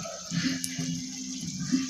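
Pakoras sizzle in hot oil with a steady broadband frying hiss and a low bubbling underneath, close and continuous with no talk.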